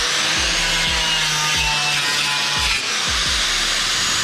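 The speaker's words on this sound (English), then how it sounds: "Okay, I'm using a bigger wire wheel." A bigger wire wheel on an angle grinder scrubs rusted metal, a loud continuous high-pitched rasp with rhythmic scraping strokes repeating about every second, alone without talk.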